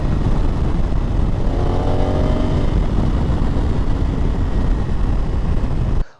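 A 2021 Honda Africa Twin 1100 (CRF1100L) adventure motorcycle pulls hard, its engine note rising through the revs under heavy, loud wind buffeting from a rider's-eye position, then cutting off abruptly.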